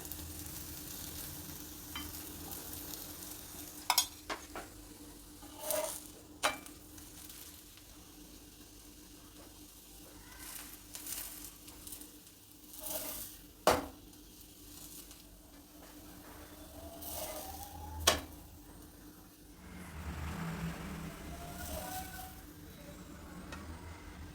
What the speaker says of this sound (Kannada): ನಾನು ಎಣ್ಣೆ ಹಾಕಿದೆ ಈಗ ತಿರುವಾಕೋಣ ಎರಡು ಸೈಡು ಚೆನ್ನಾಗಿ ರೋಸ್ಟಾಗಿ ಬೇಯಿಸ್ಕೊಳ್ಳೋಣ